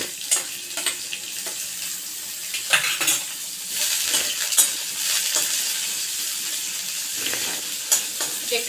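Chopped garlic fries with large-cut onion in a pan over a medium flame, giving a steady sizzle broken by frequent scraping and clinking as a spatula stirs.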